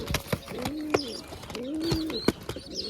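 Pigeons in a rooftop loft coo repeatedly in low, rolling phrases, several birds close by, with brief flutters and short chirps between the calls.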